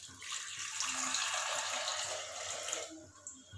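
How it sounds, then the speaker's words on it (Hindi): About half a glass of water pours into tomatoes in a pressure cooker, a steady splashing stream lasting nearly three seconds before it stops, close and moderately quiet. "आधे गिलास जितना पानी डालेंगे।"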